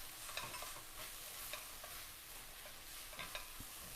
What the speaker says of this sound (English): So it's starting to change colour and it's just simmering away.